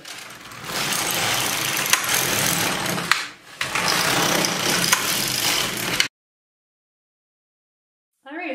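An LK150 knitting machine carriage sweeps back and forth across the needle bed in two long, loud rasping passes with a short pause between, then silence before a brief sound at the end.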